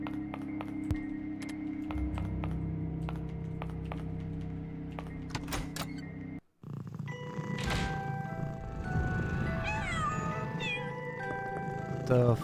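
Cats meowing repeatedly in the video game Pocket Mirror, with game music and chimes; several clear, near meows in the second half following a brief silence, while a voice talks at times.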